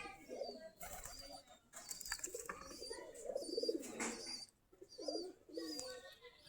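Native Giribaj pigeons coo in soft, repeated low murmurs with a few chirps, close by and steady, over a faint background hiss.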